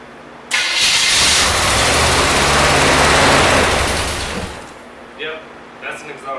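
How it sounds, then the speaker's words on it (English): A 1972 Corvette, long abandoned in a field and fitted with headers that seal poorly, cranks and catches, roaring loud and raspy from an exhaust leak for a few seconds before dying out, with brief voices after. "Yep, that's an exhaust leak."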